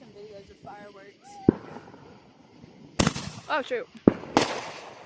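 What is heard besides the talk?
fourth of July fireworks exploding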